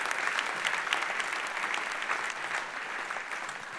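A church audience applauds steadily as a guest returns to their seat, a dense, even wash of many hands clapping with no break.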